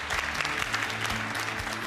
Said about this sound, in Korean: 그럼 박수 부탁드립니다.